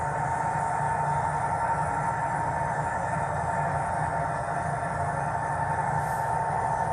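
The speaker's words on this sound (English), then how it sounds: "watch the trains go by" Model train running steadily on a layout at a Golden Spike Special running session, a continuous rolling rumble with a faint hum and no pauses, no voices over it.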